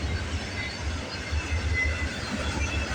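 A CSX-led CPKC freight train, symbol 734, rolls past on the Galt Subdivision at Bronte with a steady low rumble and continuous rail noise, close and alone with no talk.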